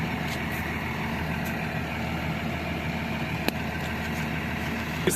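A truck engine runs steadily with a low, continuous rumble and a faint rise in throttle, close and loud, with a couple of brief clicks near the end and no talking.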